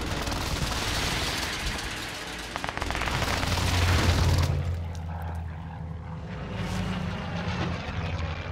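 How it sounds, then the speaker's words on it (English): In Warzone Pacific, a precision airstrike roars in with aircraft engine noise and a rapid burst of loud explosions, then fades to a quieter rumble. "friendly precision airstrike inbound"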